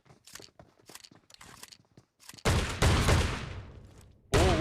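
Shotgun fire in a video game: two heavy, booming blasts with rough, crunchy tails, the first ringing out longer, following a stretch of quieter clicking and clattering game sounds.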